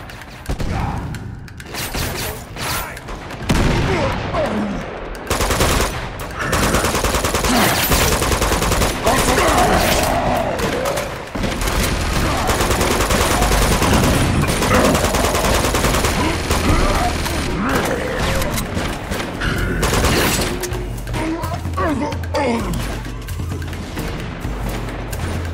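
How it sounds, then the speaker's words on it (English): Sustained bursts of automatic gunfire and shots from the video game Uncharted: The Nathan Drake Collection, loud and dense for most of the stretch, with a voice shouting in places among the firing. "Shoot them!"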